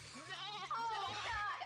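A goat bleats in a wavering, drawn-out cry that runs through the whole moment, mixed with loud overlapping studio talk.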